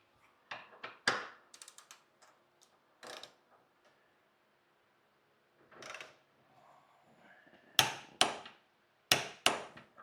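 A torque wrench set to 40 gives several sharp, close clicks in irregular bursts with quiet gaps between them, and no voices.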